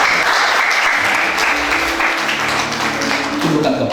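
A congregation at a Christmas church service applauds loudly and steadily, a dense clapping roar with a low sustained tone emerging beneath it toward the end.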